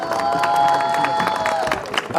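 An audience at a political gathering applauds and cheers to welcome the host, a steady dense wash of clapping and crowd noise throughout the brief moment.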